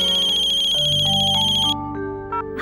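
A phone ringtone plays loud and close, a bright looping electronic melody with a steady repeating pattern that shifts to lower notes toward the end, heard alone without talk.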